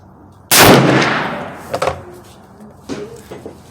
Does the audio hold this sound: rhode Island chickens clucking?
no